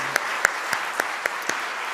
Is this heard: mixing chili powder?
no